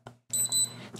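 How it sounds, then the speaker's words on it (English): A Ruko R111S Remote ID module buzzer gives short, shrill electronic beeps, close and fairly loud, in two quick pulses within a second. "turn on the buzzer and you can kind of hear how loud that is."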